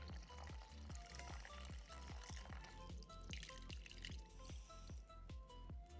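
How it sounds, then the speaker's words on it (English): Mozzarella cheese curds and whey are poured into a cheese basket, a steady liquid splash and trickle with a quick series of wet drips and plops running throughout, close and fairly loud with no talking. "now we're going to pour our cheese into a cheese basket"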